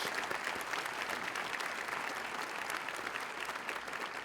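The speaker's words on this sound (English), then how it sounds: "So a round of applause to our parents and everybody here tonight." An audience at a nursing class pinning ceremony claps steadily in a room, the applause fairly faint and distant but continuous and even throughout.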